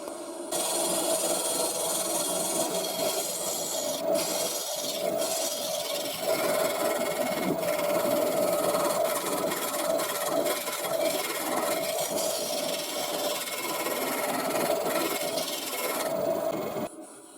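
Wood lathe turning a burr and resin blank to strip resin from the bottom, a continuous loud scraping and rasping hiss over the motor's steady hum, running almost the whole time before stopping at the end, no speech.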